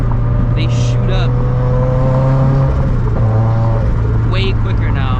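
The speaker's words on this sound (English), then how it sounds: "like with the downshifting, the RPMs, they shoot up" A turbocharged GT86/BRZ engine with a fresh clutch drones loudly from inside the car, its revs climbing sharply during downshifts, while a person talks over the engine noise.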